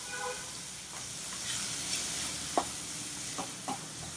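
Hing and turmeric sautéing in hot oil, a soft continuous hiss with a few faint stirring taps, quiet and close.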